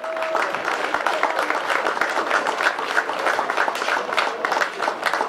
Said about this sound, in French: Et je crois qu'on peut les applaudir très très fort